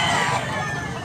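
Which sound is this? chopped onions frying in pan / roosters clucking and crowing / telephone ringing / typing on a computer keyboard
roosters clucking and crowing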